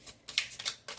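Tarot cards are drawn and shuffled close by in a quick series of soft, papery riffling bursts over about a second.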